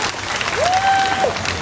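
A crowd at a rally applauds, a dense, loud, steady wash of clapping with a brief tonal whistle or cheer rising over it midway.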